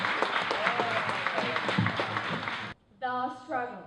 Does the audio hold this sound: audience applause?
yes